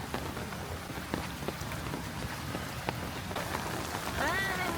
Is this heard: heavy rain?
yes